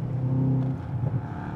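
A Mercedes-AMG S63 V8 growls briefly, a loud low engine note that swells then eases off, heard close with no voices.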